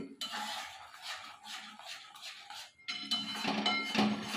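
Masala is stirred and fried in a pan for Mughlai paratha, with a spatula scraping and clinking against the metal in repeated close strokes that pause briefly before picking up again more busily.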